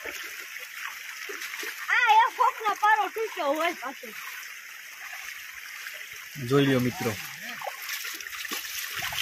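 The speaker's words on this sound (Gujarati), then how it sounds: "ભયંકર પાણી ભયંકર વરસાદ" Floodwater rushes and splashes steadily after torrential rain, swelling a roadside drain past its banks near farm fields, with someone talking loudly over the continuous watery roar.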